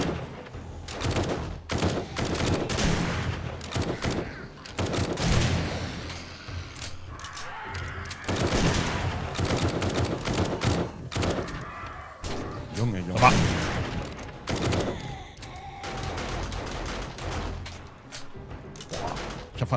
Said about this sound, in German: Ich habe fast 900 Schuss verballert insgesamt.